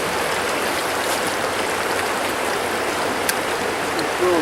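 Creek water runs steadily around an angler, a constant close rush with no pauses and a faint splash or two near the end.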